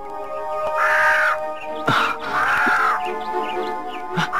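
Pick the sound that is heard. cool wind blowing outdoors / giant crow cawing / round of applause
giant crow cawing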